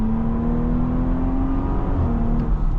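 A 2022 Porsche Cayenne S Coupe accelerates in sport response mode, heard from inside the cabin as a loud, steady engine drone with a gently rising pitch and no voices.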